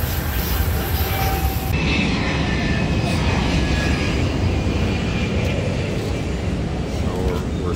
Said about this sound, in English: Airplane taking off right there.